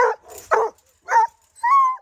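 Several sharp ranch dog barks and yips on an Arizona dude ranch, close and loud, spaced out over two seconds with short silences between.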